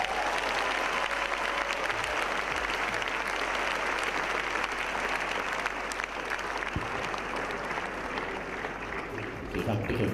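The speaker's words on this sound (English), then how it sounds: "give me a big round of applause" Dense, sustained applause fills the room from an audience at an LDY event in Singapore, loud and continuous for the whole stretch, easing slightly near the end.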